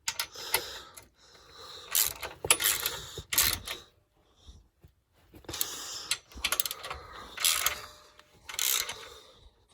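A ratchet tightening 14mm bolts on a Yamaha YXZ1000R while fitting a grab rail and winch, rapid clicking bursts in several separate runs with short pauses, close and loud.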